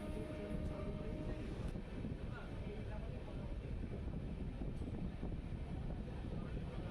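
A Howrah to Digha passenger train runs along the track, its steady rumble and rattle filling the space continuously and close by, with faint wind-like noise over it.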